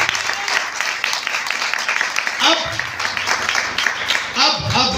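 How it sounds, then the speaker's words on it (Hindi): An audience at a church gathering breaks into loud, sustained applause, dense and continuous throughout, with voices mixed into the clapping. "जोरदार ताली बजा दो।"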